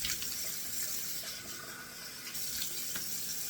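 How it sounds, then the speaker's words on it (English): Cold water runs steadily from a bathroom sink tap after a shave, a continuous close hiss of flowing water with no talking. "let me turn on the cold water because it's time to get 2 splashes of cold water and some alum"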